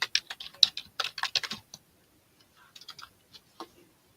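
Fast bursts of keystrokes on a computer keyboard at a live auction desk, clustered in the first second and a half, then a pause and a few scattered, softer taps, close and alone.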